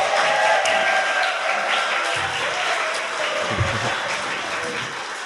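Steady applause from a crowd, dense and sustained clapping throughout, fairly loud and close, with no talking over it.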